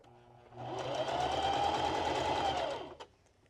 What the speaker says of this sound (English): So now I'm just gonna go ahead and start my, my stretch stitch.